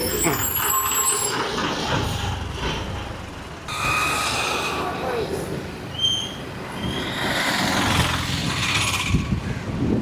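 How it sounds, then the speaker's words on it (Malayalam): A bus pulls into a bus stand near Vizhinjam harbour, a steady engine rumble with a hiss of air brakes amid busy street noise, fairly close and continuous, with people talking around it. "ഇതാ ബസ് കയറി വരണം"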